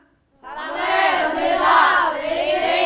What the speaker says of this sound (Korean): 구호 있으면 외치시면 되겠습니다